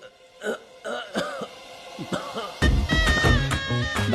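A person coughs and clears their throat in a series of harsh, irregular bursts, near and loud, followed by a denser stretch of rough throat noise at the end.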